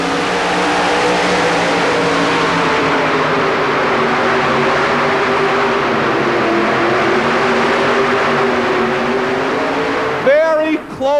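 Chevy C-Cab pulling truck named In-Laws and Outlaws roaring at a 1991 two-wheel-drive truck pull, a loud, sustained engine drone under heavy load with steady harmonic tone, breaking into rapid revving and falling pitch near the end.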